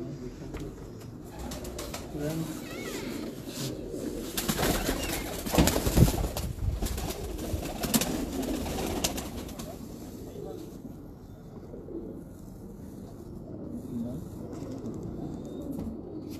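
Pigeons coo softly in the background of a pigeon-keeping gathering in Islamabad, low repeated murmurs mixed with rustling and occasional wing noise, while people talk nearby.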